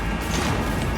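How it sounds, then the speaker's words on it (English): A flashbang grenade bursts in the video game Cyberpunk 2077, a loud, dense crashing blast that fills the moment with harsh broadband noise and a ringing wash. "Oh, flashbang."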